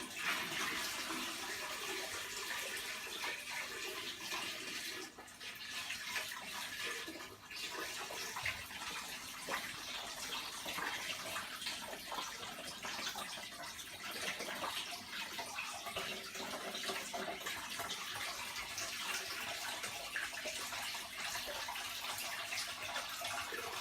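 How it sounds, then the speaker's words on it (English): Water poured gently from a bucket into an aquarium tank over the filter, a steady close splashing rush that holds evenly throughout with only a brief dip, no voices. "let's add the water gently to this tank. I think I'm going to add it right here over on top of the filter"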